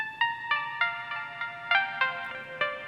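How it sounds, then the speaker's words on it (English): Thin, tinny lofi music filtered so the low end is stripped away, like it is heard over an old telephone, with short bright notes pulsing in a steady rhythm. "it sounds even more like an old telephone"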